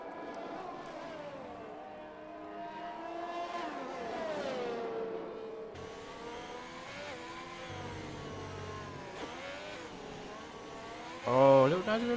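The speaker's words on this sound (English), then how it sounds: "Hear the engine go." A race car engine revs and accelerates through a corner in a racing round in Brazil, rising and falling in pitch repeatedly, fairly faint under overlapping commentary, with a sharper burst near the end.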